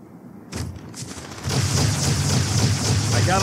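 Rocket launcher fire and explosions in the Halo 2 video game, a couple of soft thumps early, then a sustained loud barrage of blasts and rumble over game noise.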